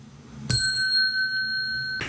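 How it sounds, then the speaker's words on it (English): A single bright bell ding struck once, its clear ringing tone sustaining for about a second and a half before a second strike begins at the very end. "I'm going to ring the bell."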